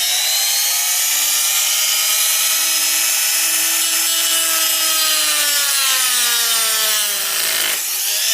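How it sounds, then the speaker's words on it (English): A Dremel rotary tool with a cutting bit grinds through a GoPro Hero 7's plastic cover, a loud, steady high-pitched whine that holds its pitch then dips briefly near the end as the load changes. "There with our Dremel tool, all 4 bits, so that just pops out. So let's crank it up."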